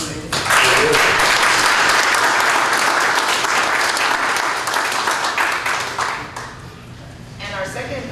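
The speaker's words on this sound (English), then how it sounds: "please give him a round of applause" A room full of people at a city council meeting applauds, a dense wash of clapping that swells quickly, holds steady, then thins out near the end.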